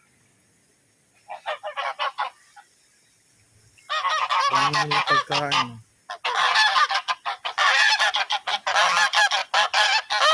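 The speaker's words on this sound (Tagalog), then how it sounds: "Gansa." Geese honking loudly in repeated bursts at a zoo, several birds calling over one another in noisy, overlapping clusters, with a brief spoken phrase mixed in.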